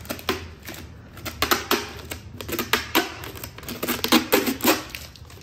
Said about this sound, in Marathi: मी हे जे माझ्या नवऱ्याचे प्रोटीनचे डबे त्याच्यावरचं स्टिकर काढून घेणार आहे